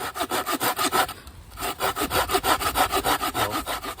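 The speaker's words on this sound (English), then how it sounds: "So I'm going to cut a section off this piece of lime." A handsaw cuts a section from a piece of lime wood in fast, even back-and-forth strokes, close and loud, with one brief pause before the rhythm resumes. No voices are heard.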